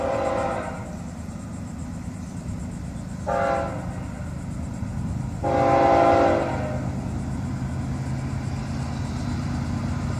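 FEC train 202 rumbles steadily past at close range, its horn sounding a short blast followed by a longer, louder one. No one speaks.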